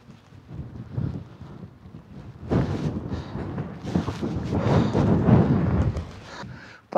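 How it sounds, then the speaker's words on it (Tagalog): Strong gusting wind at a mountain campsite in Benguet, buffeting the microphone in heavy irregular rumbling bursts that swell and fade, louder and rougher in the second half, with no talking. "Sobrang lakas po ng hangin."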